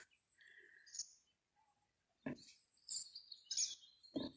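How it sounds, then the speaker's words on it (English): Bright, high chirps and trills from birds outdoors, scattered with brief pauses, moderately faint, with a few louder bursts. "You can hear the birds."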